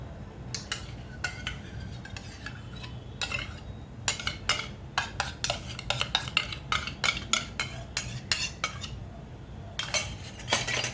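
A spoon scrapes and clinks against a pot while mushroom biryani masala, garam masala and yogurt are stirred together, giving a steady run of close, sharp metallic taps and scrapes over a low background rumble, with no talking.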